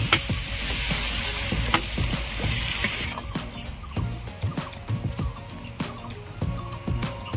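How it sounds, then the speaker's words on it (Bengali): Water hits fried spice masala in a pan with a loud hiss for the first few seconds. The gravy then settles into a softer simmer with scattered pops and bubbling, and no one speaks. "জল দিয়েছিলাম, গ্রেভি ফুটছে"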